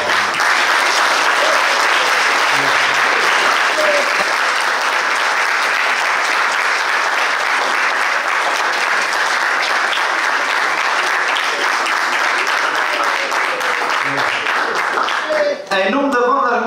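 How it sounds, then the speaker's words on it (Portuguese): A dinner crowd at a band's celebration claps loudly in a dense, sustained ovation that carries on for many seconds before a voice cuts in at the very end. "peço, por favor, uma enorme salva de palmas"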